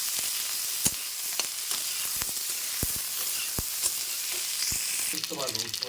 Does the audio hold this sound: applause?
no